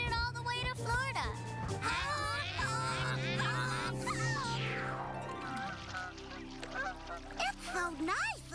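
Several cartoon geese honk loudly and repeatedly, layered over one another, alongside bright animated voices and a long descending tone.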